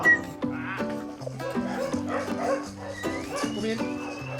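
Dogs barking and yipping as they play along with children catching balls on a field, with repeated excited barks in quick succession and some whimpering.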